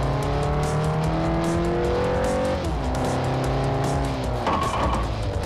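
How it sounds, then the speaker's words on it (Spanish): A race car accelerating in Forza Motorsport 4, engine tone climbing through gears with shifts and a brief tire squeal, loud and continuous. "Acelera, acelera."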